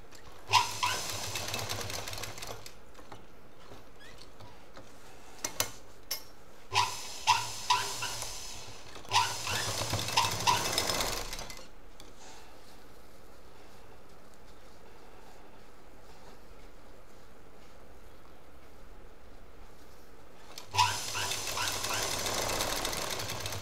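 A double sewing machine stitches a fabric gift pouch in several loud runs, whirring bursts of a few seconds separated by quiet pauses and a couple of sharp clicks as the material is repositioned.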